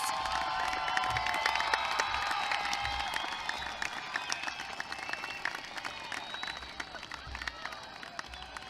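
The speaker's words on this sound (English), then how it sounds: "Give them a round of applause." Graduates at a graduation ceremony applauding their families, a dense, steady wash of clapping from a large crowd, heard from a moderate distance with faint voices mixed in.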